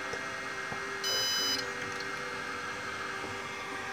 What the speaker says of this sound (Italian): premere il tasto bind per 8 secondi, fin tanto che non sentite il primo beep